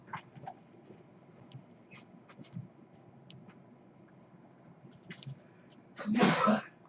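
A single sharp human sneeze near the end, loud and close, following a stretch of quiet room tone with small clicks and rustles.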